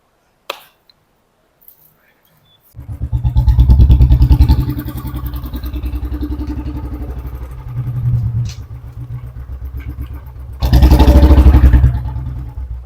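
A Royal Enfield Bullet motorcycle engine idles with a deep, steady thump, swelling twice into louder revs after a short quiet start.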